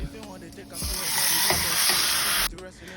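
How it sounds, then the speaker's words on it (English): Fresh rosemary sizzling in hot oil in a pan, a bright steady hiss that swells loudly after a quiet start and holds for well over a second before cutting off, with faint talk in the background. "add this rosemary and allow it to sizzle in that oil for a little bit"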